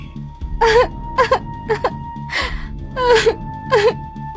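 A rudali, a woman hired to mourn, wails nearby in a series of sobbing, gasping cries with wavering pitch, rising in several bursts and falling back between them.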